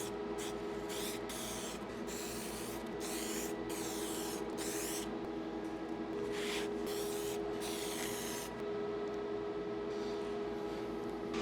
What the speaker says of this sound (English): So let's go ahead and glue these up